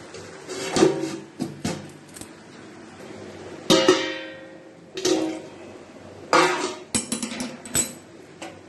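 A metal pot is covered with its lid, giving several close clinks and scraping knocks spread over a few seconds, with faint background kitchen noise.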